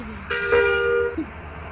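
A vehicle horn in a video game gives one short, clear toot of under a second, loud and close, with quiet background around it.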